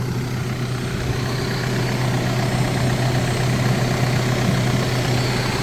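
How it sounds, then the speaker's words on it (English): A vacuum cleaner runs steadily in a nearby room while an engine is being cleaned, its constant whooshing drone unbroken and fairly loud, with no one talking. "She's taking care of the vacuuming."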